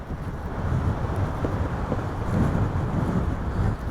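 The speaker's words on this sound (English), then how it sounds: "Whoa, isn't it ever windy?" Steady wind buffeting a microphone outdoors in Point Pleasant Park, a continuous low rumble with gusts swelling and easing throughout, no voices.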